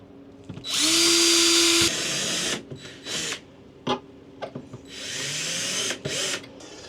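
A cordless power drill drives screws into an Ikea kitchen cabinet built into a camper van, two whirring bursts close up with a rising pitch, separated by clicks and handling knocks.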